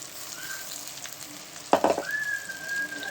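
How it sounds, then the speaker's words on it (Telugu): Onion and ginger paste fries in a clay pot with a steady close sizzle, broken by a few sharp stirring scrapes midway and a thin whistling tone in the background. "ఇప్పుడు దీన్ని కూడా బాగా వేయించుకుందాము"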